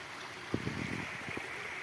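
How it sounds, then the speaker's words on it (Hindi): Water flowing in a stream beside a hidden waterfall near Jaipur, a steady broadband rush heard close by, with a few low thumps and knocks partway through. "यहाँ पे देख सकते हो आप क्या पानी बह रहा है।"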